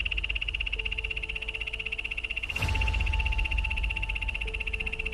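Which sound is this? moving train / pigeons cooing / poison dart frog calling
poison dart frog calling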